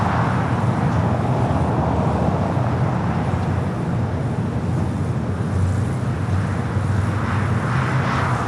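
Volaris Airbus A320neo airliner at Los Angeles LAX airport, a steady, loud broadband jet engine roar holding constant throughout with a deep rumbling low end.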